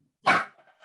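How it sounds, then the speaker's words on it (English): A single loud, close dog bark, short and sharp, followed by a faint trailing sound. "Sorry, that's my dog."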